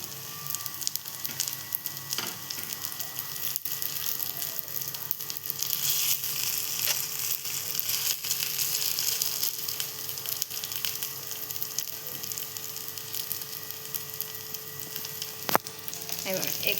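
An aloo tikki potato patty fries in a pan just after being flipped, giving off a steady, dense sizzle that holds evenly throughout with no voices.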